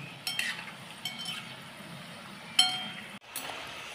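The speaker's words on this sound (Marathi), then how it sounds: "आपण याला आता चांगलं छान गोल्डन ब्राऊन होईपर्यंत तळून घ्यायचे." Potato pieces fry in hot oil for Potato 65, giving a low, steady sizzle with a few sharp clinks of stirring against the pan. The sound is fairly quiet and there is no talking.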